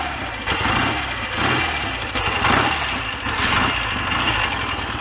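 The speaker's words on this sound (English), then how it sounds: "I've already run the engine today, so I'm sure it'll start easily." A BSA A7 motorcycle engine runs in a misty, drizzly workshop setting with a steady, close mechanical idle and slight periodic swells in loudness throughout.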